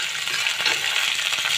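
Cashew nuts go into hot ghee with raisins for a flattened-rice payesh, giving an even, bright sizzle and crackle of frying, close and steady throughout.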